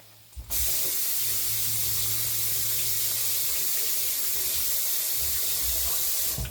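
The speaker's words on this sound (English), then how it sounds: "Now, let me rinse my glove off." A kitchen tap runs at full flow as a glove is rinsed under it, giving a loud, steady hiss of spraying water close by that starts abruptly and carries on to the end.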